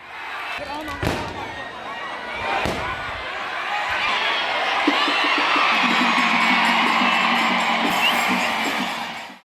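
A crowd of spectators at an Ichalkaranji wrestling ground erupts into sustained loud cheering and shouting after a wrestler pins his Iranian opponent, preceded by a couple of sharp slam-like bangs.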